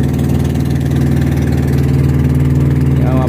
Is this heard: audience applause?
no